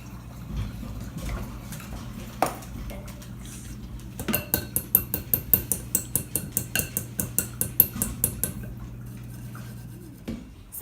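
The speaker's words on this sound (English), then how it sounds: "once you're done sifting everything into the bowl" Dry cake ingredients are sifted into a bowl for a wedding cake, with a steady run of light metallic clicks and taps, about two per second, close by over a low background hum.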